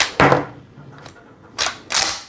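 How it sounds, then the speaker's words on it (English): A shotgun bolt cycles and throws out a dummy round, with a sharp mechanical clack, a fainter click, then two more crisp metallic clacks close by, no voices. "when I pull the trigger, the bolt would throw the round out like this"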